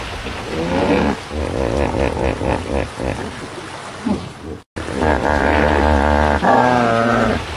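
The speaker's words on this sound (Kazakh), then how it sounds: "Бұл бегемот немесе су өгізі. Ол қорылдайды, пырылдайды, су астында гуілдеген дауыс шығарады." A hippopotamus gives deep, resonant snorts and grunting calls in a close, loud series of bursts, with a brief pause before a longer rumbling vocalisation.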